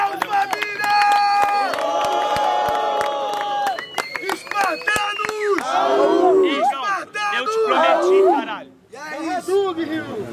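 A rap battle crowd roars at the grand final with loud sustained cheering, shouting and whistles. A host's amplified voice calls out over the noise, which surges and drops before erupting again.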